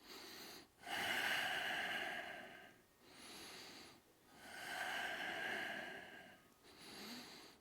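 Deep, slow breaths are drawn during a yoga forward fold in an Ashtanga-inspired vinyasa practice, with long audible inhales and exhales in a steady rhythm. They sound close and alone, with no talking.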